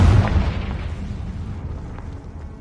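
A Confringo blasting spell bursts in a Hogwarts Legacy fight: one loud, close, deep boom at the start that rolls off into a fading rumble with faint debris-like ticks, no voices.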